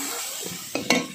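Sea crab seasoned with salt sizzles in a frying pan while it is stirred. A soft sizzle is broken by two quick scrapes of a spoon.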